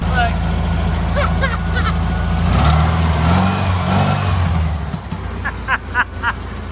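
A turbocharged rat rod Porsche engine runs loudly and close by, with a rough, rumbling idle. There are brief revs, and air gulps through soft silicone intake tubes as they suck in. Someone talks over the engine noise.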